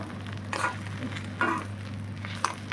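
Capsicum stuffed with roasted gram dal frying in a pan, a soft continuous sizzle broken by three short bursts of sputtering crackle about a second apart, close by with no speech.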